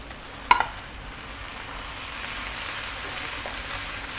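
Fish, curry leaves and tomatoes sizzle steadily in a hot pan, with a short clatter of a spoon stirring near the start and a continuous close frying hiss throughout.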